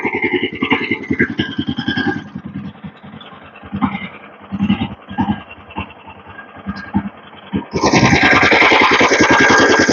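A farm auto-run blower engine, with a choke and both key and rope start, fires up near the end and runs loud and steady after a stretch of close talking.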